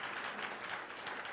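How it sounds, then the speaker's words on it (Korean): Steady applause from a crowd at a campus ministry gathering, dense and continuous with no pauses, like a room full of people clapping together. "큰 박수로 축복하고 격려하겠습니다"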